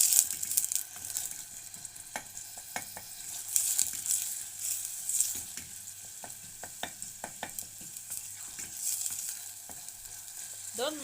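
A pot of onions fries at home while a spoon stirs them, making an even sizzle broken by frequent close scrapes and knocks. It stays moderately quiet, with no talking.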